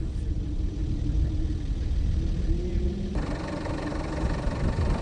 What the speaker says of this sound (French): 10 heures sont nécessaires à un véhicule tout-terrain pour traverser le désert le plus chaud au